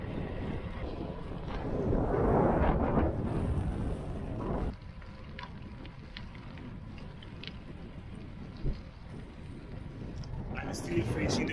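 Steady wind roars and buffets the microphone while riding a gravel bike on a long-distance route in Veneto, Italy, a continuous rushing noise that swells and eases, with a sudden drop partway through.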